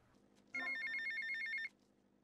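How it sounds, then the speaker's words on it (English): A telephone rings once in GTA Vice City, a bright electronic trill lasting about a second, clear and alone against quiet background. "I think we get another phone call"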